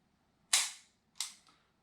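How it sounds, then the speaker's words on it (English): Close, sharp snaps of a CZ P-01 pistol trigger being pulled and reset, two distinct clicks about two-thirds of a second apart, the second slightly softer and followed by a faint extra tick, in a quiet room. "that single action pull, once you reset it, is short, light, and crisp."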